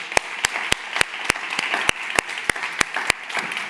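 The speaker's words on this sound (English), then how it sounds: "a very big applause for all of them" Applause from an audience at a final presentation of student sustainability challenge projects, honoring the participating teams; a steady wash of clapping with several sharp, evenly spaced louder claps standing out close by.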